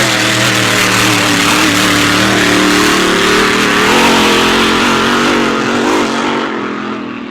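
A racing powerboat engine roars loudly and steadily at a boat race, a dense continuous drone that holds near, then eases and fades slightly toward the end.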